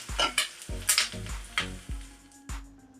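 Curry leaves dropped into hot oil for tempering, a seasoning for cucumber dal, crackling and sizzling close up in bursts over a steady frying hiss, with a few sharp pops and spoon clinks against the pan.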